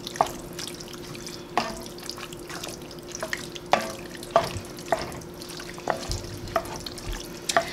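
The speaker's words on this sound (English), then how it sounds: "And I'm gonna leave the liquid in there. I'm just gonna stir that around." Canned tomatoes with green chilies and their liquid being stirred for a keto tamale pie, giving wet sloshing and a series of light spoon clinks against the pot at irregular intervals, close and moderately quiet.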